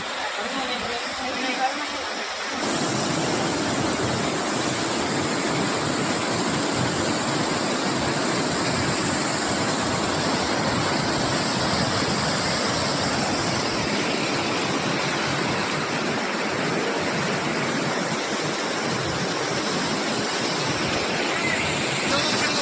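The Vibuti waterfall roars with a continuous, loud rush of falling water that surges in sharply after a brief quieter moment at the start, then holds steady and close throughout.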